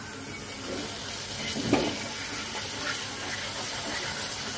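Boneless meat sautéing in a pan, with a continuous close sizzle and a short louder burst of frying near the middle, no talking.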